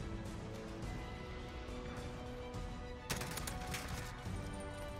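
Rapid automatic fire from an M4 rifle in a Call of Duty match on the small Shipment map, a dense, continuous barrage with a sharper burst around the middle, loud and steady throughout.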